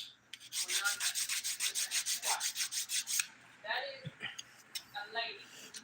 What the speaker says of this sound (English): Any little bumps on the nail, I'm going to file them smooth with the 100 grit side